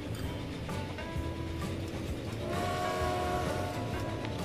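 Trains running in Transport Fever rumble and clatter at a moderate distance, with a sustained whistle-like tone rising partway through, steady and without talk.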